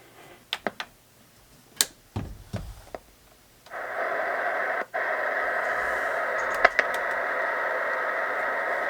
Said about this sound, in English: on the 440, we're just hearing static